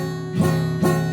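Acoustic guitar strummed twice with a loose Kyser capo, giving two rhythmic chords where several strings sound muted and dull rather than ringing out, close and fairly loud.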